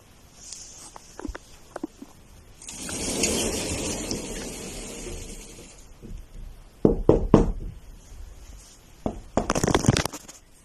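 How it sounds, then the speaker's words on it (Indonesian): A wardrobe door is knocked on indoors: scattered light taps, a stretch of rustling noise, then clusters of sharp, fairly close knocks in quick succession near the end. "Ketika ia menutup dan mengetuk pintu lemarinya, Bathuri dikejutkan langsung dengan balasan ketukan yang ia mulai."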